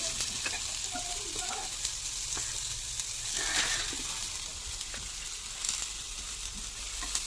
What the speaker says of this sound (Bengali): তো ঢাকনাটা তুলে আমি এখন একটা টমেটো দিয়ে দিচ্ছি। টমেটোটাও হালকা ভেজে নেব।